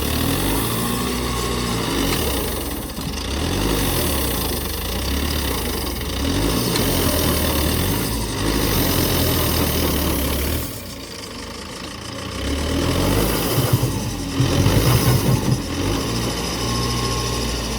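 A tractor engine runs steadily throughout, a continuous mechanical drone with slight dips and surges, heard near and loud beside a riverbank where an eroding embankment is being shored up with trees.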